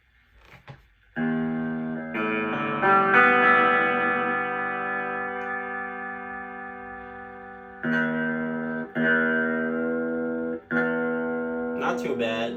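A black Fender Stratocaster Player Series electric guitar rings out in sustained chords and notes, with clean attacks and long decays, played alone and close with no voices.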